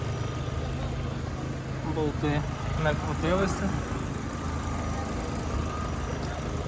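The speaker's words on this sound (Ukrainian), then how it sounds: "Робота двигуна, двигун не мився" An Opel Zafira engine idles with a steady low rumble while someone speaks briefly over it near the start.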